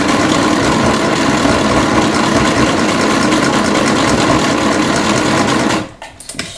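A sewing machine stitches a garment with a fast, steady mechanical whir that runs loud and close, then stops abruptly near the end.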